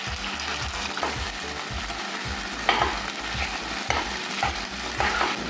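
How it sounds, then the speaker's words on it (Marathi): Sago pearls being stir-fried with already-fried potato in a pan: a steady, close scraping of a spatula in repeated rhythmic strokes over a soft sizzle, with no voices. "थोडंसं फ्राय फक्त करून घ्यायचं आणि आता आपण साबुदाणा घालून घेऊया"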